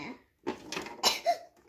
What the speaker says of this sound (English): She's been coughing a lot.